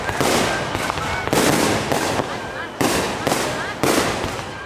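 Fireworks burst repeatedly in a shrine courtyard. The booms and crackles are loud and near, arriving in rapid overlapping volleys with fresh blasts about every second.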